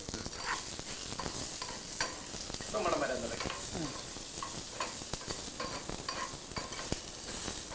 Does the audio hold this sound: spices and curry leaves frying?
yes